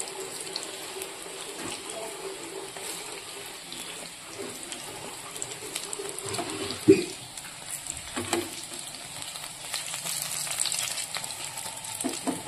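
Lentil fritters (peyaji) fry in hot oil with a steady, even sizzle that runs throughout, broken by a brief clink and stir as they are turned, close up.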